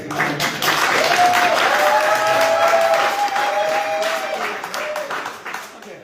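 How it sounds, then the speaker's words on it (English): Sustained audience applause for a rabbi lecturing to a community gathering, full crowd clapping steadily for about six seconds, with a faint whistle or tone and some voices running through it. "Can we have a little applause for me for just one moment, please?"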